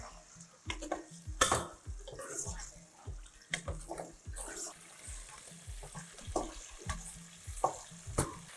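Roughly half a kilo of chicken cooks in hot oil in a pan for chicken korma, giving off an uneven sizzle with clattering stirring strokes, close and fairly quiet.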